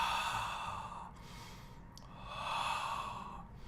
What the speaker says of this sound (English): to breathe in the nose